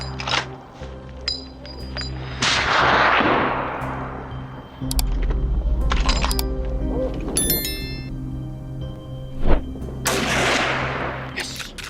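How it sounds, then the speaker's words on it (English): Rifle shots ring out during a wild hog hunt in woodland, several sharp cracks scattered through the clip amid rustling and outdoor noise, fairly loud and without speech. "A barrage of gunfire erupts."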